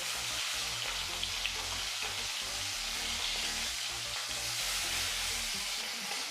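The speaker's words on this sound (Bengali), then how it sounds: "মাছগুলোকে এখন ভেজে নেব।" Pieces of foli fish fry in hot oil, a dense, steady crackling sizzle throughout with low bubbling underneath, close and continuous, no talk.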